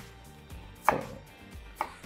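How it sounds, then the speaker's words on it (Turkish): A knife chops large potatoes into big cubes on a cutting board, two crisp, distinct chops about a second apart, close and fairly quiet, with no talking. "Şimdi patateslerimizi büyük küpler haline doğrayacağız."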